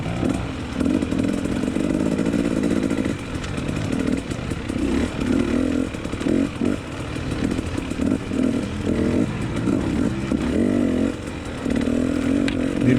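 A motocross dirt bike engine revs hard during a race at Golden Spike NMA Round 5, a loud, close, buzzing drone that rises and dips as the throttle opens and eases, with no talk.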